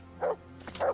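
A dog in the medieval video game Kingdom Come: Deliverance gives two short, gruff barks a fraction of a second apart, fairly close and moderately loud.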